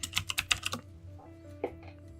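Quick burst of keystrokes on a computer keyboard while setting up VirtualBox on Ubuntu, about eight sharp taps in under a second, then a lone keypress later over low background hum.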